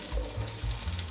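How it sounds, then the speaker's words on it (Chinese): Potatoes and carrots deep-fry in plenty of hot oil in a pan, giving a steady close crackling sizzle with bursts of bubbling, and no one talking. "马铃薯沥干水分放进来炸，红萝卜也放进来炸"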